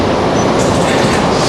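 Train running along rails with a steady, loud broadband rumble and faint clickety-clack from the wheels, heard from inside the carriage with no talking.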